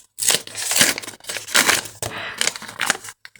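Paper crinkles and tears in several short bursts as a handmade paper surprise packet is opened close up, each rustle separated by brief pauses.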